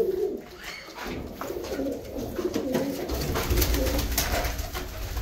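Domestic pigeons on a farm coo continuously in soft, rolling calls, several birds close by with steady low murmuring and faint rustling throughout.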